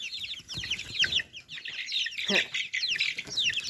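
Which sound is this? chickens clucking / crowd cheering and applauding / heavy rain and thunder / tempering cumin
chickens clucking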